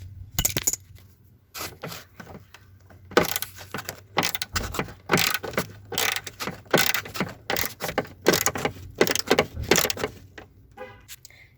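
A hand ratchet works a 10mm bolt loose on a 2001 Jeep Grand Cherokee during heater core removal, giving bursts of quick clicking strokes in uneven runs, close and fairly loud, with metallic clinks between them.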